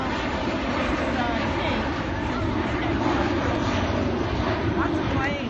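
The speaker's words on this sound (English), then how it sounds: "lots of planes flying tonight." Airplanes pass overhead at night near the MLK Memorial in Washington DC, a broad, steady roar of jet engines droning continuously with city ambience and faint voices underneath.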